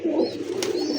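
A pigeon cooing nearby, one continuous low throaty coo held for about a second, with a faint chirp over it.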